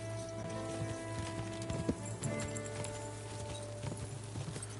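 Steady clip-clop of horse hooves trotting at a regular rhythm in Kingdom Come: Deliverance II, fairly close, with a low constant hum and scattered game sounds in the background.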